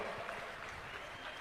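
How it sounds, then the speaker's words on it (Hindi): Clapping from the congregation at a Jain chaturmas kalash ceremony in Jabalpur, a soft, distant patter of many hands that stays faint and even through the short stretch. "पहले तालियां बजाओ, 9वां नाम सुनना हो तो।"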